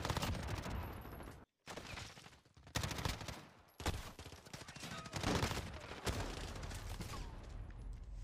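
MP5 submachine gun hip-fired in a video game, rapid bursts of close automatic shots broken by short gaps, with one near-silent pause early on.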